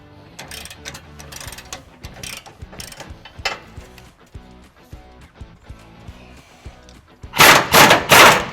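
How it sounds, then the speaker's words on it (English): A breaker bar working tight trailer hitch bolts on a 2019 Ford F-250, rapid metallic ratcheting clicks in bursts, followed by sharp loud cracks as the bolts break loose near the end. "We used a breaker bar in this case because these bolts were pretty tight"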